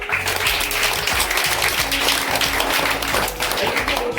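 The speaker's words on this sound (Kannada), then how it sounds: "ಜೋರಾಗಿ ಚಪ್ಪಾಳೆ" Schoolchildren clap loudly together in a classroom during a reading campaign event, a dense, sustained burst of applause that stays steady and close throughout.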